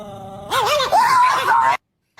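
A person's voice imitating a growling chihuahua dog, a short nasal whining growl with wavering pitch rising into a strained cry, close and loud, cut off abruptly.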